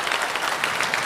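Dense, steady applause from a crowd after the Shenzhou-20 crewed spacecraft launch, a continuous wash of clapping at even volume.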